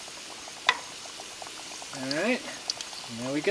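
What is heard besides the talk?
panko-crusted mangrove snapper frying in a pan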